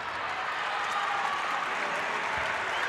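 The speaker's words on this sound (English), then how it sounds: "Big roar from the crowd as they sense they've got a finally got a defensive stop" Basketball arena crowd at a women's Olympic qualifying game between Serbia and Nigeria roars and applauds in a steady, dense wash of noise after a defensive stop.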